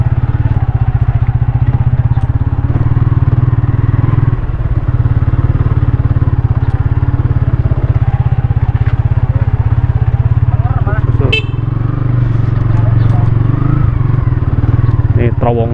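A motorcycle engine drones loudly and continuously as it rides close up across an old, tilting railway bridge in Indonesia, with a few light clatters and a voice briefly speaking over it.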